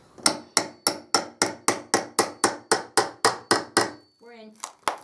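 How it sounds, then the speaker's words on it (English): A hammer strikes wooden boards in a fast, even series of about fifteen loud, close blows, then pauses briefly while someone speaks, and two more strikes follow. "maybe you should use the hammer"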